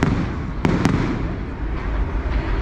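Fireworks bursting over Disneyland, a continuous loud rumble of explosions with a couple of sharper cracks near the start, heard from a distance.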